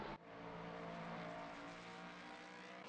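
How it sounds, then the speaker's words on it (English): A Porsche race car engine in a sim racing video game, a sustained high-pitched engine drone held steady at speed for a few seconds, loud and continuous with no talking. "F1 Andre, third position, pushing the Porsche."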